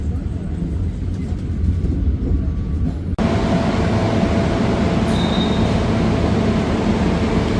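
Trains pass through a station in Indonesia with a loud, steady rumble of wheels on rails that shifts abruptly partway through, joined by a faint high squeal, with no talk.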